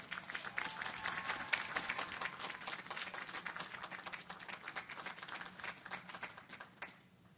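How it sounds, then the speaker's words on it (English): A large crowd at the USS Sioux City (LCS 11) commissioning ceremony claps in a dense, sustained applause that carries on evenly before fading near the end. "Let's give them a huge round of applause."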